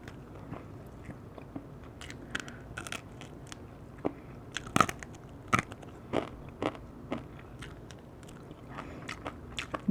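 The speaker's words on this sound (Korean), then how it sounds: "날개가 바삭바삭." Crispy oak-firewood-roasted whole chicken wing being bitten and chewed close up, with a steady run of sharp, irregular crunches and crackles over ten seconds.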